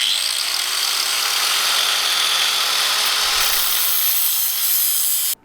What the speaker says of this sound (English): We got the grinder and cut them in half.